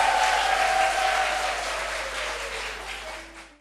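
An audience claps to welcome singers at a song competition, a broad, even wash of applause that holds steady and then fades out at the end, with faint crowd murmur beneath.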